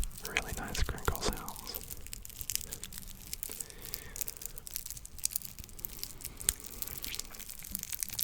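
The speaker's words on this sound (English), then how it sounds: "And they make some really nice crinkle sounds." Loose wrapping paper on candy canes crinkles and rustles steadily up close, a dense crackling texture with sharp snaps, interrupted by soft whispering.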